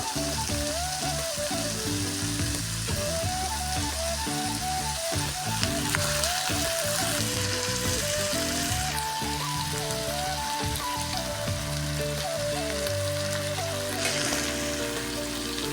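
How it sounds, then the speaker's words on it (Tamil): Potatoes simmering in a pan for a potato kurma served with chapathi, a soft steady sizzle and bubbling heard close but quiet, with music playing along throughout and no talk. "கொஞ்ச நேரம் உருளைக்கிழங்கு வேகட்டும்."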